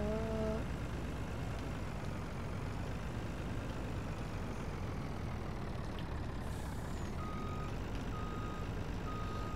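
A vehicle towing a trailer reverses in Farming Simulator 19, with a steady engine drone throughout and a few evenly spaced backup beeps heard faintly over it.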